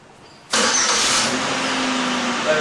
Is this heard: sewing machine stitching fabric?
no